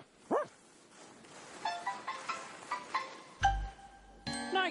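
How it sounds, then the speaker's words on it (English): A dog in a cartoon set in Antarctica gives a quick yelp, then a string of short, evenly spaced barks mixed with jingling, tinkling musical tones. "But there are dogs named Taxi."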